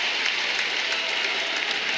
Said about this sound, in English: just an audible gasp from this crowd here